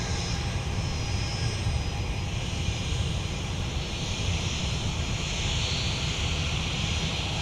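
Airliner taking off from runway 17 at Minneapolis–Saint Paul airport, a steady, loud engine roar filling the whole stretch with broadband rumble and no voices.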